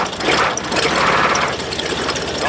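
A cold truck engine idles during bean harvest, a loud, close, steady rough rumble with an uneven lope and no voices over it.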